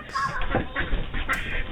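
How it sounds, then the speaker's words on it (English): Ducks at a doorbell camera give a few short nasal quacks and honks, close and fairly clear over a low background hum. "Ducks?"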